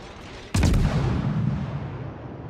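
Naval guns boom in a warship video game, one sharp heavy blast with a quick follow-up crack, then a long rumbling decay over steady engine and sea ambience.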